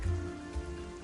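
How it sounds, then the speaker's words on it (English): Steady rain falling in the Planet Zoo video game, an even wash of patter over a low hum, with no talk heard. "it's getting wet and it's raining"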